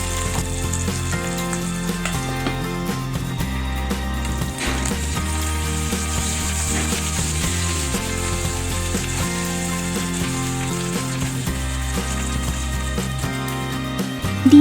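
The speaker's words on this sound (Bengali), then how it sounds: "স্প্যাচুলা দিয়ে হালকা ভেঙে নেড়ে ভালোভাবে ভেজে নিচ্ছি" Rohu fish roe fry in a pan while being broken up and stirred with a spatula, a steady sizzle with repeated scraping strokes, close and alone, over a constant background hum.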